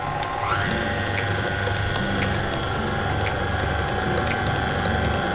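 An electric mixer beating buttercream whirs up to a higher speed near the start, then holds a steady close mechanical hum with faint rhythmic ticking.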